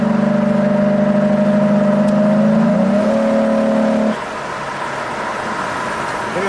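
A Jaguar S-Type V6 revs steadily at high, sustained engine speed with a loud droning tone that rises slightly in pitch, then cuts off abruptly into a lower idle-like rumble.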